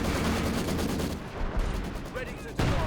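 Artillery barrage pounding a sector in Company of Heroes 2, a 4v4 match with mortar pits and rocket launchers: dense, continuous gunfire and shell impacts rumbling throughout, with a deep thump near the end and quieter battle noise in the middle.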